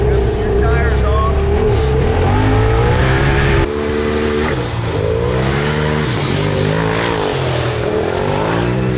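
Turbocharged UTV engine with boost turned up, revving hard and accelerating through a timed run, a loud close roar with rising and falling pitch sweeps across gear changes; voices can be heard mixed under the engine.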